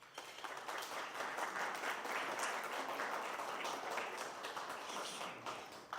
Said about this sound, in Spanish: Por favor, un aplauso para ellos.